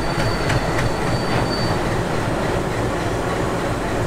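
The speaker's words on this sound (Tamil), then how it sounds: "வருது பாருங்கள் ட்ரெயின்." A train rolls past close by with a loud, steady rumble and a thin metallic wheel squeal riding on top.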